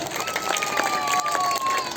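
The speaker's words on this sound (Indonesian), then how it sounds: "berikan tepuk tangan yang paling meriah" An audience gives lively applause and cheers after a Balinese Sekar Jagad dance performed by Sanggar Ayodhya Kerthi with gong accompaniment; steady dense clapping fills the space with a faint tonal hum behind it.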